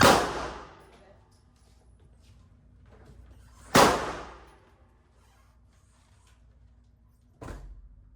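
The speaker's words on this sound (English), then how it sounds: "It's a shotgun." Shotgun firing at an outdoor gun range: three loud, sharp blasts spaced a few seconds apart, each with a quick decaying tail and a quiet stretch in between.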